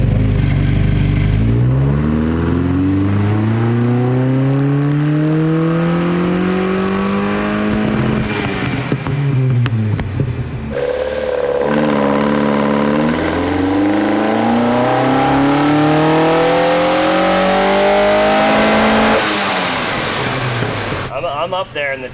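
An Alfa Romeo GTV engine on a dyno revs in two long, loud, rising pulls, each climbing steadily in pitch before dropping off sharply, with people talking in between and underneath.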